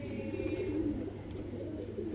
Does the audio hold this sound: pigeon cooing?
yes